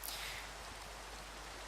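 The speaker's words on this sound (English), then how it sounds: "we got rid of the night, but the rain's still there" Steady rain falling in the Minecraft world, a soft, even hiss of drops that continues without break, faint and with no voices over it.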